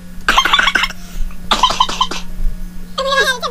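A person imitates a cough with their voice while describing being sick: a few quick, rasping vocal bursts in two clusters, followed by a brief harmonic vocal sound, loud and close.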